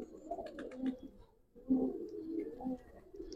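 Giribaz and colored pigeons coo together in a loft, several soft, throaty calls overlapping in two bursts at close range, with faint chirps above and no talking.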